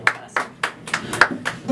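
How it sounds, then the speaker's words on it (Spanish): A few hands clap in a slow, spaced rhythm at a mariachi birthday performance, about six distinct claps over under two seconds, with a faint voice in the background. "Sí, señor, el aplauso bonito."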